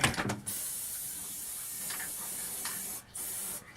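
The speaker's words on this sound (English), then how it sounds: "I'm using this multi-purpose spray adhesive by Elmer's, and I spray this over a trash can." An Elmer's multi-purpose spray adhesive can sprays over a trash can in a steady hissing burst, pausing briefly once before spraying again, close by.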